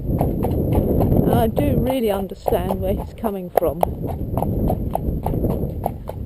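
A horse's hooves clip-clop in a steady, even rhythm during foundation training while someone talks over the footfalls close by.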